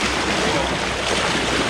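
Big ocean waves break and wash along the shore in a steady, broadband roar with no clear pauses, alone without talk.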